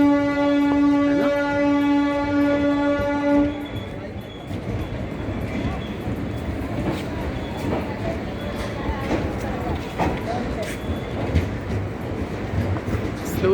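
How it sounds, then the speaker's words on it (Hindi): At Sahibabad railway station at night, a train sounds a loud, sustained horn for about three seconds, then rumbles and clatters steadily as it rolls in and slows, with voices faintly present. "स्लोली धीरे धीरे रुकेगी और मैं उसके बाद चढ़ जाऊँगा किसी भी डिब्बे में।"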